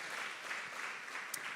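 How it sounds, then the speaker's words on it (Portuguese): Brief, faint applause from a church congregation during a Wednesday evening worship service, a steady wash of many hands clapping at a distance. "Você pode dar um aplauso ao Senhor?"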